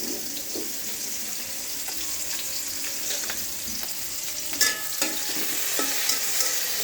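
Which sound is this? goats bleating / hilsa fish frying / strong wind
hilsa fish frying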